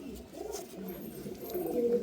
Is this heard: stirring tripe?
no